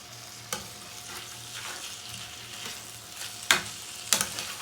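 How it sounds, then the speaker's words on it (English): Frozen diced carrots stirred into a mince pie filling in a pan, a soft continuous sizzle with scraping spoon strokes and a couple of sharper clinks against the pan, close and without talk. "I'm gonna mix the carrots in so they warm up and they don't become cold."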